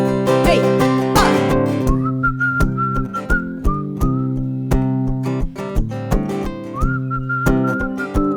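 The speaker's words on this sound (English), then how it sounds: "So I need you to whistle with me like a bunch of drunken sailors" A live audience whistles a melody along with a singer at a concert, shrill sustained whistles gliding between notes over guitar-backed music, loud and close throughout.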